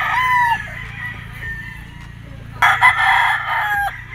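A gamefowl rooster on a game farm crows loudly and close by, with a second long crow breaking in partway through and a steady low hum underneath.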